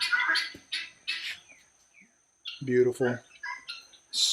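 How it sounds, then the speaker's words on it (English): Birds squawk in short, loud bursts near a house set among coconut, banana and palm trees, the calls alternating with a person's brief speech. "pardon the birds. As soon as I talk, they like to make noise."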